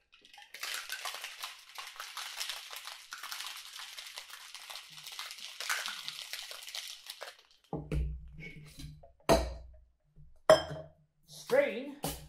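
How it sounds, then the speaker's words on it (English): A cocktail shaker is shaken hard with ice for an Underberg sour, giving about seven seconds of fast, steady, bright rattling up close, followed by a few clinks as a person starts talking. "And because it's a shaker, we shake."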